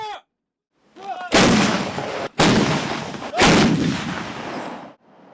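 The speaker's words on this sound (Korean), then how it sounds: "굉음과 함께 희뿌연 화염을 내뿜으며 터지는 포탄들" KH-179 towed howitzers of an army artillery unit fire shells during a live-fire drill in severe cold: three loud, broadband blasts a second apart, each with a long rumbling tail, preceded by a brief faint tone.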